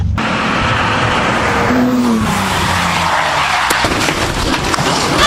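A BMW E30 car with all four doors removed is being driven. Loud engine and road roar fills the cabin, with a rising tonal whine and some tire noise throughout.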